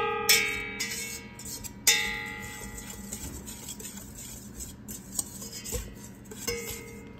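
Utensils clink and scrape against a bowl while eggnog pie ingredients are stirred together, giving sharp metallic taps and chimes over quieter ongoing scraping, with no voices.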